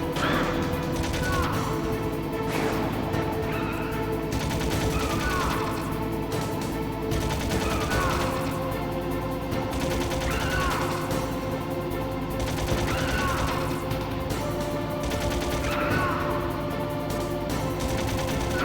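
Repeated gunshots in the Metal Gear Solid video game, sharp bursts spaced through a steady, dense backdrop of game music and effects.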